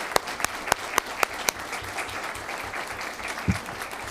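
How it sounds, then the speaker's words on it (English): A board-meeting audience claps in steady applause, close and continuous, with a few sharp individual claps standing out early on. "Round of applause for our thespians."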